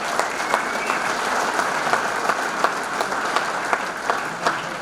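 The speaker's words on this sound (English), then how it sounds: "Give them a round of applause." Audience applause fills the hall at the 2023 St. Joseph Area Sports Hall of Fame ceremony, steady and moderately loud with distinct individual claps standing out.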